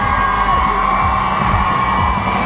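A crowd cheers, whoops and shouts loudly and continuously at a car spinning event in Mitchell's Plain, Cape Town, over a steady engine drone.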